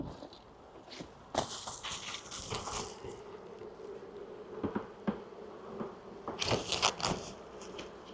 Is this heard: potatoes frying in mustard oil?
no